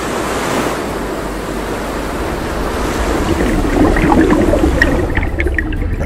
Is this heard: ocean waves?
yes